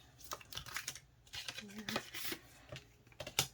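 Paper cash envelopes rustle and a plastic gas card is pulled out from among them, producing close, irregular crisp crinkles, taps and clicks that come in quick clusters throughout, fairly quiet and sharp-edged.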